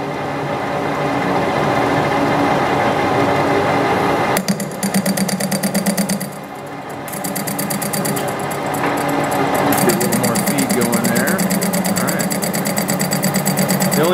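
A metal lathe faces the back of a part and cuts a recess in an interrupted cut, giving a loud, continuous machining drone with a rhythmic chatter that dips briefly midway and then resumes.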